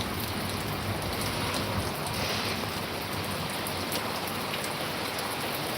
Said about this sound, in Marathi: आज खरं समाधानकारक पाऊस आहे ज्यानं उष्णता कमी होईल असा पाऊस पडतो